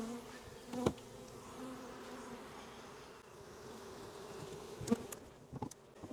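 A package of honeybees being installed into a hive buzzes in a continuous close drone, with a few light knocks and clicks from frames being handled over it.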